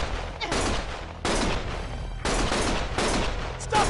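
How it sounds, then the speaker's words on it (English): Sustained bursts of gunfire in the Lost Judgment video game, four long rattling volleys separated by brief pauses, loud and close, with a faint voice in the background. "Stop shooting!"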